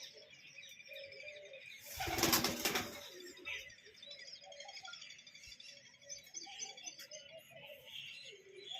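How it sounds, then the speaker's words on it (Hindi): A pigeon coos in soft, low, repeated calls, with a brief loud burst of flapping wings early on and faint chirps from other caged birds nearby. "ये हमारा कबूतर।"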